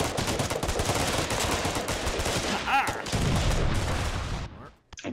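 Gunfire rattles in the Foxhole video game, with continuous overlapping shots and bursts that stay loud and dense before cutting off abruptly near the end.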